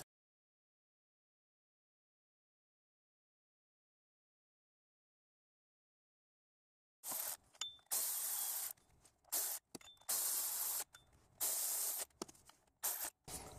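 A 1/4-inch ratchet with a 10 mm socket tightens bolts on a Toyota 1MZ-FE engine during timing belt work. After a long silence, loud close bursts of rapid ratcheting come in irregular spurts.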